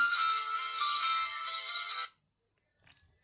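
A bright electronic startup chime from a JAXOO children's smartwatch plays for about two seconds, then cuts off into near silence with a faint rustle at the end.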